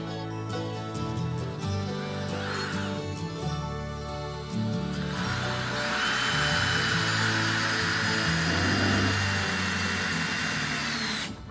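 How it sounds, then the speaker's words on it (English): Power drill driving structural screws into a timber frame post, a loud steady whir that climbs in pitch midway and holds under load, close and continuous with no talk. "I'm gonna sink structural screws there, and in the other corner."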